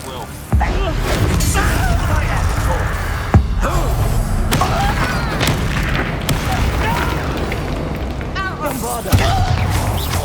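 Fiery Confringo spell blasts during a Hogwarts Legacy battle, heavy booms and thuds over a busy, continuous combat din, with sharp louder hits at the start and near the end.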